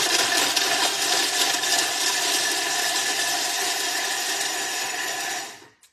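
Food processor grinding chicken thigh at speed 5, a loud steady whirring motor and blade grind running for several seconds alone before cutting off abruptly.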